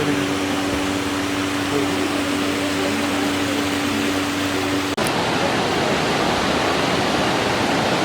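A small waterfall pours in a steady, dense rushing roar that fills the scene without pause, with a faint mechanical hum beneath it early on.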